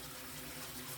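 Water pours into a container for mixing a descaling solution, probably from a garden hose, making a steady, continuous rushing fill with no break or talk.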